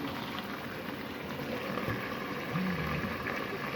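Chickpeas simmer in a covered pot on a stove, giving a steady, soft bubbling hiss that carries through without a break and with no talking.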